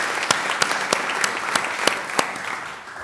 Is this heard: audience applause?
yes